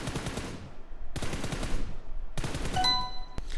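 Rifle spraying in PUBG Mobile: three sustained bursts of rapid automatic gunfire, loud and close, each run of shots cut off by a brief pause, with no talk.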